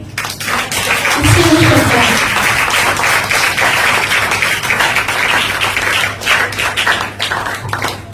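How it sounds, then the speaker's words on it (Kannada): Church congregation clapping at a worship service, a loud, continuous dense patter of many hands, with a brief low voice or shout rising near the start and faint vocal sounds mixed into the clapping. "ನಿಮಗಾಗಿ ನೀವೇ ಒಂದು ಚಪ್ಪಾಳೆ ಹೊಡಿರಿ."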